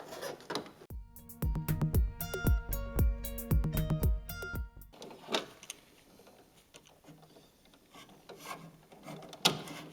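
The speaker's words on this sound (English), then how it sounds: "So I'm going to pry up here on the release, and we should be able to pull these out." Plastic clicks and scraping as window switches are pried out of the door panel of a Chevy 1500 pickup from the 1988-98 era, a burst of rattling snaps followed by quieter fumbling and a sharp click.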